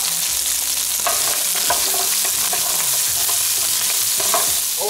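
Vegetables frying with browned duck bones in a hot pan give a dense, continuous sizzle with crackles and occasional stirring scrapes, close up and fairly loud.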